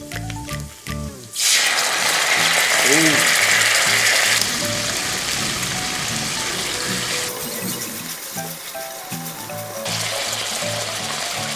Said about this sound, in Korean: 먼저 알료 알리오 알, 올리오 파스타 소스를 부어줍니다